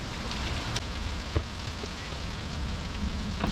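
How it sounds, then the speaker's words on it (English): Dense, steady downpour drums on nearby surfaces, with scattered louder drops pattering through the constant hiss of heavy rain. "It's just a beautiful day with a lot of rain now."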